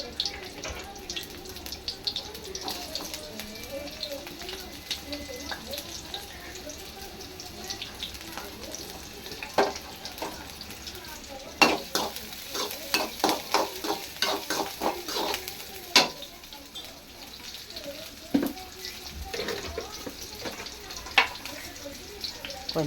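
Onions dropped into a pan for Rayalaseema uggani, a soft frying hiss with stirring clatter and a few sharp utensil knocks, all at moderate level with no one speaking.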